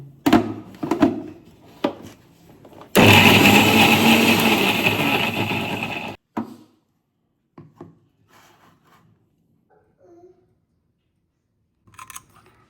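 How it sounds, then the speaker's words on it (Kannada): A kitchen mixer grinder roars loudly for about three seconds while grinding sandwich chutney smooth, then cuts off, with scattered clattering and handling noises before and after. "ನಾನೊಂದು ಮಿಕ್ಸಿ ಜಾರಿಗೆ ಹಾಕ್ಕೊಂಡು ಇದನ್ನ ನೈಸಾಗಿ ರುಬ್ಕೊಳ್ತೀನಿ"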